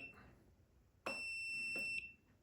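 A multimeter on continuity test beeps as the start button is pressed on a 12V kids' battery-operated ride-on car, one steady high tone lasting about a second, clear and fairly close against quiet background.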